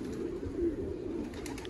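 Chuha-breed pigeons coo in a soft, continuous low burble, several birds near and overlapping, without speech.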